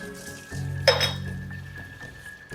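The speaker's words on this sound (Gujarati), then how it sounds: "બસ આ જો ને વાસણ ઘસું છે." Dishes are scrubbed at a kitchen sink, and one sharp metallic clink rings out close by over a low steady hum.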